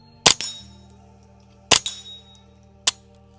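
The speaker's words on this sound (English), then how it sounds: "You can hear the sound of the steel is like twice as loud as the gun going off." Suppressed .22 rounds striking a steel spinning target far downrange, three sharp metallic clangs with short ringing tails, each heard clearly in near silence.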